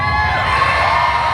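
A Missouri crowd at a drag race at Mo-Kan Dragway cheering and whooping, a loud, dense, continuous roar of many voices mixed with a high whine.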